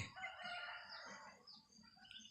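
A rooster crows faintly in the distance, a drawn-out call over quiet outdoor background.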